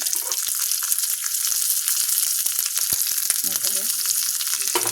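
Curry leaves and tempering spatter in hot ghee in a pan, a dense, close crackling sizzle with rapid popping bursts throughout.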